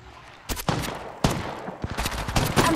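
Rapid bursts of automatic gunfire from Apex Legends Mobile ranked play, several loud volleys cracking close by in quick succession over about two seconds, with no talk.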